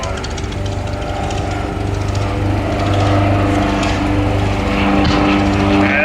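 Propeller aircraft engines of a Spad and the Baron's plane in a dogfight, a loud continuous droning engine roar with a steady rhythmic throb, swelling slightly as it closes in, with a voice talking over it.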